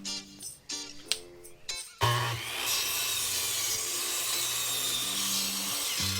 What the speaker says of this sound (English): cut it on the miter saw so that way the roof will be even